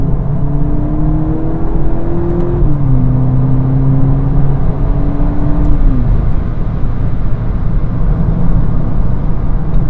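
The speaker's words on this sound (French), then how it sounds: "Et là, petite accélération, on va voir ce que ça donne." A 2023 Volkswagen Polo GTI accelerating hard, its engine note climbing steadily with an upshift partway through, heard from inside the car and loud throughout.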